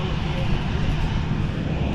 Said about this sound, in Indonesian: Itu ada suara pesawat mau terbang, keras sekali bunyinya.